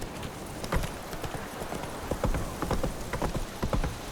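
Horse hooves clip-clop in The Witcher 3 video game, a steady trotting rhythm of distinct thuds at close range with a faint rainy hiss underneath and no speech.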